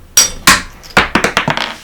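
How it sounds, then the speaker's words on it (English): Sharp metallic hammer blows on a steel pin punch driving out a cotter pin from a three-piece bicycle crank: two spaced strikes, then a quicker run of five or six ringing taps, close and loud. "use a pin punch and a hammer"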